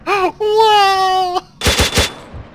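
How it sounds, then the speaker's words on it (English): A grenade machine gun emplacement fires in the Arma military video game, a quick burst of about four loud, heavy thumps that follows a drawn-out wailing, crying vocal sound. "It's that GMG emplacement."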